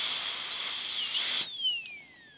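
Dental drill cutting guide grooves into a tooth during a full zirconia crown preparation, a high thin whine that wavers in pitch and then winds down as the bur slows, close and alone.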